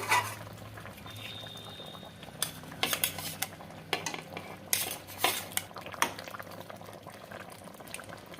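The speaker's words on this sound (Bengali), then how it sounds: "এবার আমি পনিরটা দিয়ে দিচ্ছি।" Paneer goes into a boiling curry. A low bubbling simmer runs under sharp clinks and scrapes of a spoon against the pot, coming in irregular bursts up close.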